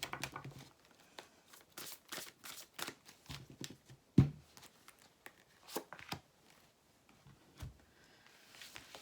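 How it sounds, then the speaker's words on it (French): A deck of cards is shuffled by hand in a series of soft riffles and rustles with scattered slaps and one sharper snap partway through. The sounds are close and quiet, and the shuffling is uneven and halting. "Aujourd'hui, je n'arrive pas à mélanger les cartes."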